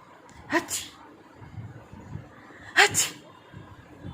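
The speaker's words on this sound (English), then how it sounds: "Achoo." Two sneezes from one person, nearby and sharp, about two seconds apart, with quiet low vocal murmurs in between.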